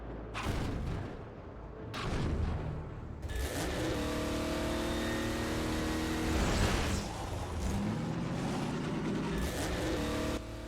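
Car engine in Half-Life 2: Episode 2 driving and revving, with the motor surging several times alongside clunks and rattling mechanical noise, loud and close throughout with no talking.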